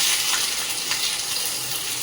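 Chopped onion fries in a small wok, a soft continuous hiss of sizzling oil, even and close with no talk.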